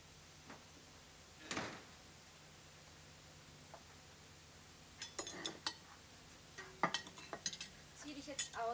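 Plates and cutlery clink and clatter in scattered bursts at a sink, faint at first and busier toward the end, with a brief rustle earlier.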